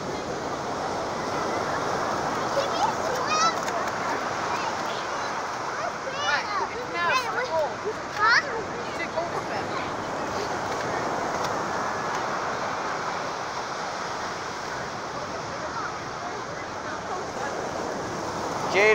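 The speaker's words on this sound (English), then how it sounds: "Waves, they sure are cool at night." Steady ocean surf rushing and washing continuously at night by a boardwalk, with wind noise on the microphone and faint voices in the background.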